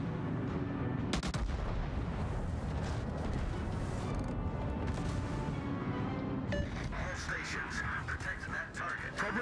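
Warship guns fire in the naval game World of Warships, with heavy booming volleys and rumbling blasts under continuous battle noise and voices.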